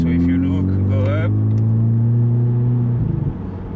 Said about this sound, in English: 3500 RPM and the car will automatically upshift, which is not ideal.